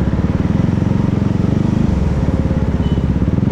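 Close, steady pulsing of a single-cylinder motorcycle engine under way on a road trip, its rapid low thump shifting slightly in pace midway, with no voices over it.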